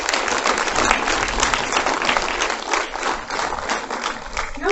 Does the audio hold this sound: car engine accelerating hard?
no